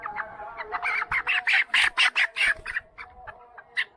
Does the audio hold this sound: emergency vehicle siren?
no